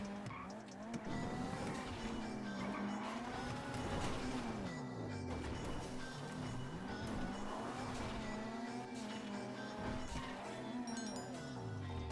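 Cars racing in GTA 5 Online, with continuous engine whine and repeated sweeping tire squeals as cars skid through turns, loud and busy throughout, with occasional thuds of impact.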